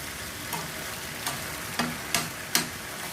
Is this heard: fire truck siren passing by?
no